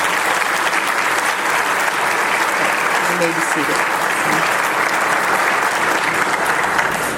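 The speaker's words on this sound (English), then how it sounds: "Let's give everybody a round of applause." Loud, sustained applause from a luncheon crowd at a police awards event, steady clapping throughout with a voice speaking briefly over it.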